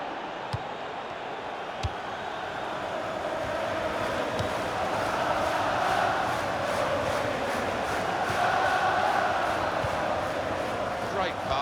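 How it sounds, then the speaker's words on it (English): A virtual stadium crowd in FIFA 16 keeps up a steady roar during a UEFA Champions League match, swelling gently and then easing, with faint thuds underneath. "the crowd really enjoying it"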